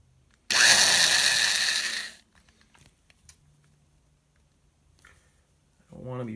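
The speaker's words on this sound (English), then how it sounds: "So now I can just make this drill straight up and down as I can." A power drill bores into the wooden stock of a Gewehr 1898 rifle during a repair, a loud steady whine lasting about a second and a half before stopping abruptly, followed by quiet handling noises.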